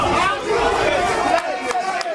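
A kickboxing fight crowd roars steadily under close, continuous commentary, the noise peaking in brief surges.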